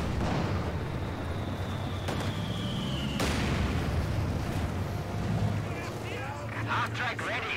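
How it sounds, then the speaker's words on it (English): An artillery barrage in the strategy game Company of Heroes 2, with rumbling booms and bursts of shelling under a continuous commentator's voice. "So Allies, of course, trying to artillery barrage."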